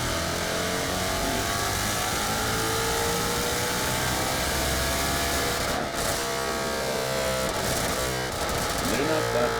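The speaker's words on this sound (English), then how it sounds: "I love the way that car sounds. I love that V8 motor." A Shelby GT350 with its V8 engine roars in a loud, sustained rev, the throaty drone holding steady for several seconds with slight rises in pitch.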